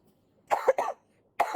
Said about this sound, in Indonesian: Sorry, batuk-batuk ya.